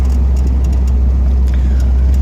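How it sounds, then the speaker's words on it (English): A 1959 Pontiac Bonneville engine idles steadily and close, a constant low rumble with a faint hissing edge from a slight exhaust leak. "A little bit of an exhaust leak, maybe coming from the left bank."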